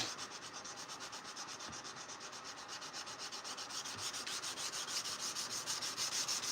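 Sandpaper at 400 grit is worked by hand along a high carbon knife blade edge, making a steady, close, rhythmic rasping of back-and-forth strokes with no talking.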